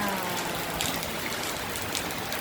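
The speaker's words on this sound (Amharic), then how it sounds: "ዝናብ ጥሏል" Steady rain falling in Dessie, a close, even hiss of drops on surfaces that holds at the same level throughout with no voices.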